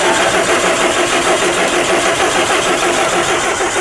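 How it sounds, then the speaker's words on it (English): Car starter motor that is failing cranks the engine in one continuous loud whirring grind, close up and without talking. "I think the starter's on its way out."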